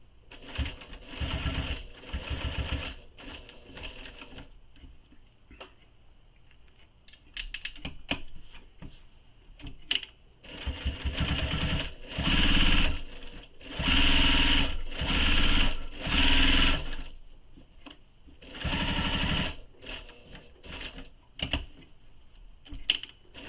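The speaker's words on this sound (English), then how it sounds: "don't forget to backstitch at start and stop, because that is going to be where the pocket's going to have the most stress" A sewing machine stitches a pocket onto a bag, running in bursts of rapid whirring stitching with short pauses and backstitching stops between runs, close and clear with no talking.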